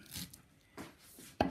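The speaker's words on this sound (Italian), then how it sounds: "E quindi con un coltello serio, ben affilato, iniziamo a tritare tutto." A sharp, well-honed knife chops herb stems and leaves on a cutting board: a few close, dull knocks at uneven intervals, ending in one harder crisp strike, with no talking.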